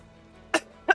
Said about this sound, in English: clear her throat from laughing so hard